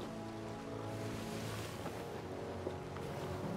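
Water washes and splashes around a sailing ship in the pirate game Sea of Thieves, a steady low churn of sea and wind with no voices.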